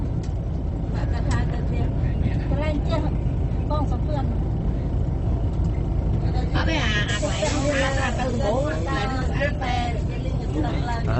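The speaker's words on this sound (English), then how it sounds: "and so I guess the bus stops" A bus rides the road from Saigon toward Phnom Penh near the Cambodian border, its engine and road rumble droning steadily and close throughout, with voices talking over the noise.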